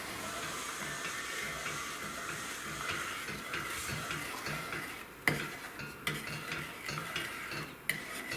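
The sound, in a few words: stirring candy mixture heating in a pot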